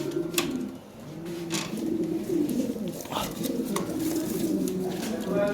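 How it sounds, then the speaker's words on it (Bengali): Large Lahore pigeons coo in low, repeated rolling calls, close by, while someone talks over them. "বিশাল সাইজের কবুতর, টপ কোয়ালিটি পেয়ার।"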